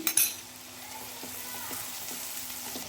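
Chopped onion and green chilli fry quietly in a pan with a soft, steady sizzle. A few light clinks and taps from stirring are heard near the start and at spaced intervals.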